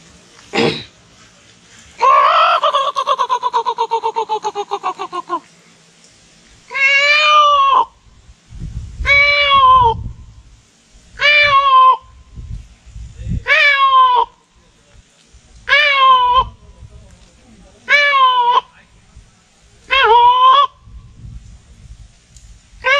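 A man imitates a peacock's breeding-season call, first a long wavering cry, then a series of about eight loud, evenly spaced honking calls with short pauses between them, close and clear against quiet background noise.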